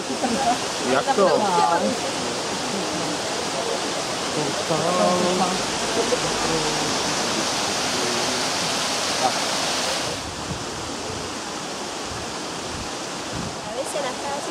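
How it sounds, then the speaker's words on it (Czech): A waterfall in Bigar national park roars as a constant broadband rush, with people talking over the torrent during the first part and wind buffeting the microphone. "Je to národní park a je tu krásný vodopád."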